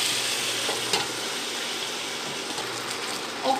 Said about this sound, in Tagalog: Let's just fry it.